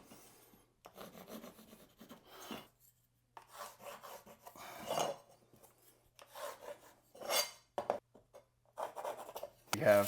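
A pencil scratches and rubs across luxury vinyl tile while marking the trim edge, in short close bursts separated by quiet gaps, with a person talking intermittently.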